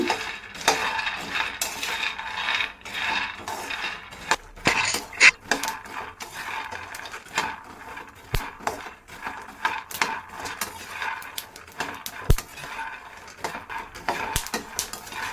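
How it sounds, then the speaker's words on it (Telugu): Lentils dry-roasting over medium flame in a metal pan, stirred continuously with a spoon, giving steady scraping and rattling with frequent clinks, close and alone without talk. "మీడియం ఫ్లేమ్లోనే వేయించుకోవాలి ఈ విధంగా వేయించుకోవడం వల్ల పప్పులన్నీ ఈవెన్గా లోపల కూడా బాగా వేగుతాయి"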